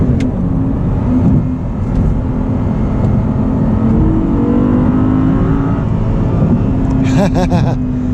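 Audi R8 V10 with a gated manual gearbox heard from inside the cabin, a loud, steady engine drone and road roar that holds throughout, with a brief higher-pitched burst near the end.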